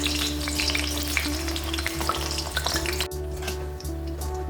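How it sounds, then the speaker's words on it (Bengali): Raw banana pieces fry in a pan of hot oil, giving a loud, dense, continuous sizzle with occasional stirring clatter close by and no speech. "কাঁচা কলাটাকেও আমি ভেজে নিচ্ছি"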